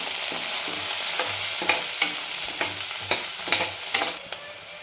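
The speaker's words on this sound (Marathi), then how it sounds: "कांदा छान परतून झालेला आहे तेलावर यावेळेला आपल्याला कढीपत्ता टाकून घ्यायचा" Onions and curry leaves fry in hot oil for a potato and pea dry curry, a steady close sizzle broken by a series of spoon scrapes and light clinks against the pan.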